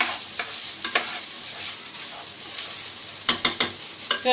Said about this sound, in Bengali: আমি অফ ক্যামেরা এখন চালটা নেড়ে নিব